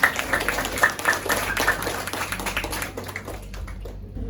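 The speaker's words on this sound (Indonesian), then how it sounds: "Tepuk tangan bersama." An audience applauds after a student group's business ethics presentation at a university entrepreneurship event. Fairly close, dense clapping starts strong and then thins and fades over a few seconds.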